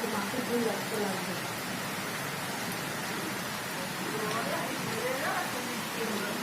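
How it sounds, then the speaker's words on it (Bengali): Heavy rain pours down in Jirat, a dense, steady hiss that holds evenly from start to finish with no break. "দেখুন কি জোর বৃষ্টি পড়ছে।"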